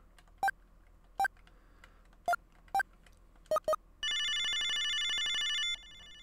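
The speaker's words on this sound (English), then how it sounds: "Alright, let's use the video phone." Video phone in the video game Snatcher: six short electronic dialing beeps in an uneven rhythm, followed by a steady buzzing ring tone lasting about two seconds, loud and close, no talking.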